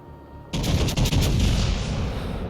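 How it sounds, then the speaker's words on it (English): Naval guns fire a heavy broadside in a warship video game, a sudden loud booming volley that rolls on as sustained rumbling explosions after a quiet start. "Lined up, shots out, all guns to bear."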